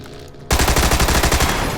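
Rapid burst of Tommy gun fire in a video game, loud and close, starting abruptly after a quiet moment and continuing as a dense, evenly spaced string of shots to the end.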